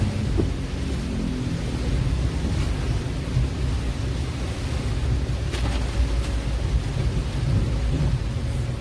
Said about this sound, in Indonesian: diguyur hujan kota Palembang.